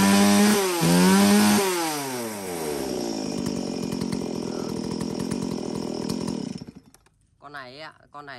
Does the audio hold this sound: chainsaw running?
yes